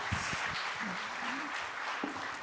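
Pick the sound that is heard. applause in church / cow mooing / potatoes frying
applause in church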